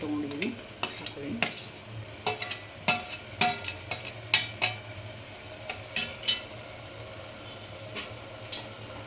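A chopped tomato goes into a hot pan for a millet fenugreek bath dish and sizzles quietly while a spoon stirs it, knocking and scraping against the metal in irregular close taps over the steady frying hiss.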